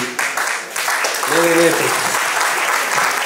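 Audience applause at the Cake Art Bulgaria Awards 2023 ceremony, a broad wash of clapping that swells and holds steady, with a voice briefly heard over it partway through.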